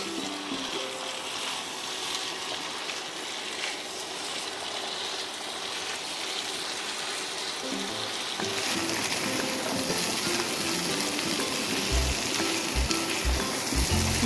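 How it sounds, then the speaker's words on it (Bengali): Chickpeas fry with spices in a pan for chana masala, giving a steady, soft hiss that grows a bit louder partway through, with a few low clicks of stirring near the end and no one talking. "মশলার সমেত চানাগুলোকে আমি কষিয়ে নেব।"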